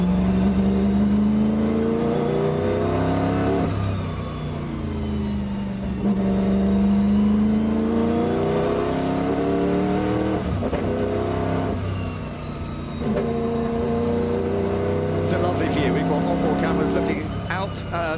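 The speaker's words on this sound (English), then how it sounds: "Let's take a listen in on the ride up the hill with Kenny." Onboard sound from a race car driving up the Goodwood hill: a loud, close engine rises in pitch through repeated gear changes, with brief lifts between the pulls and a voice talking over it.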